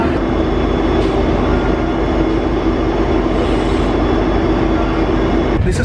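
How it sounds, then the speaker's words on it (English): Indian Railways Rajdhani Express running from Dibrugarh to New Delhi behind a diesel locomotive, heard from inside an AC first-class coach as a steady, loud rumble and drone of wheels and carriage noise with no speech. "we are running with a diesel locomotive end to end, right from Dibrugarh to New Delhi"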